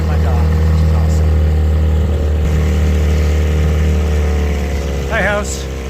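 A motorboat engine drones loudly and steadily nearby on the water in the Adirondacks. A voice briefly cuts in near the end.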